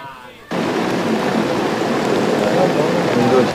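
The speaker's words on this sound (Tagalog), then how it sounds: "Bago magtanghali, ang pinakamabagsik na buhos ng ulan dito sa Quezon City." Heavy rain pours down in Quezon City, a loud, dense, steady downpour that starts abruptly after a short quieter opening and continues without a break to the end.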